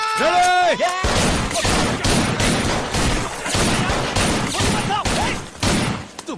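Rapid bursts of gunfire crack repeatedly over several seconds in an Indian action film scene, loud and close, with a brief tonal sound at the start before the shooting begins.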